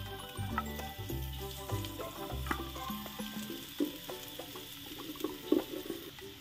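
Onion sizzles and crackles in hot oil for bisibelebath with a soft, continuous frying hiss, occasional stirring clatter, and some low hum at the start.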